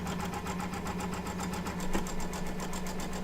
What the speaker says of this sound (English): it's just doing big long stitches just to baste your fabric down